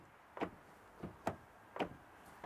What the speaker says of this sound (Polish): dawno w żadnym kompakcie tak ładnie, czyściutko, elegancko, miękko nie zamykały się drzwi